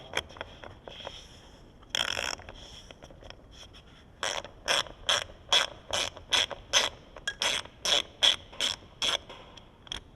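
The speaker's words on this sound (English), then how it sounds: "Then you're gonna need a 7mm. And these are small bolts, so we're just gonna back these off." A 7mm ratchet backing off small bolts on a 2011 Ram 2500, giving rapid bursts of close, crisp clicking, sparse at first, then a dense regular run of ratcheting strokes.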